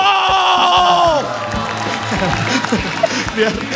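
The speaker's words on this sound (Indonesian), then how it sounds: "Sekali lagi tepuk tangan buat ketiga juri kita" Studio audience applause and cheering for the three judges of a stand-up comedy competition show, following a held musical sting, loud crowd clapping with whoops, while a host talks over it.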